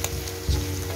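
Spam sizzling and frying in a pan for dinakdakan, a steady close crackle with a brief stir or shift of the pieces midway, no talk.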